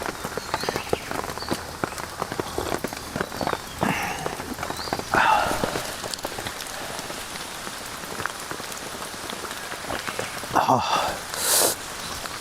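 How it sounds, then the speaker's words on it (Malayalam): Heavy rain falls steadily in a wild forest, a dense, continuous patter close by. A few louder bumps and rustles break through it at campsite level. "നല്ല മഴയും നല്ല തണുപ്പും കൊടും കാടും"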